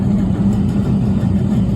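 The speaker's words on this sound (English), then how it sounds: "Got idling a little bit too low. You just see the tractor jerking." A tractor engine idling slightly too low during corn silage harvest, a loud, steady low rumble with a faint uneven pulse, close by and without talk.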